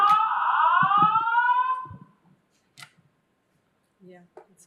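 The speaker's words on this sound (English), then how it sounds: "Somebody just pull the fire alarm. It's the fire alarm." A building fire alarm blares loudly with a steady, wavering electronic tone for about two seconds, then cuts off, leaving scattered faint voices in a council meeting room.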